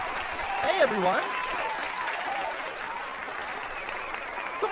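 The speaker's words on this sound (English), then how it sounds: "Where's the round of applause?" Applause rises during a live-streamed broadcast, a steady wash of clapping that runs throughout under a talking voice.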